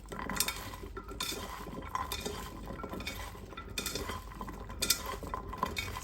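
Canned corned beef hash is mixed by hand in a bowl, a soft continuous churning close by with light clinks of the dish, no talking.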